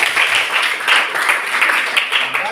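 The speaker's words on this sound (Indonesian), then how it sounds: "tepuk tangan dulu itu semua" A classroom of students applauds together, with dense rhythmic clapping that stays loud and close and rises and falls in waves for a few seconds.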